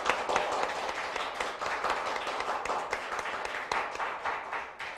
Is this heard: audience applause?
yes